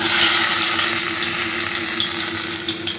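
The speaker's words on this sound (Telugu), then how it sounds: "ఇప్పుడు దీన్ని పిండిలో ముంచి డీప్ ఫ్రై చేసుకుందాం." Aloo bajji, batter-dipped potato fritters, deep frying in hot oil, giving a loud, steady, close bubbling sizzle throughout with no talk.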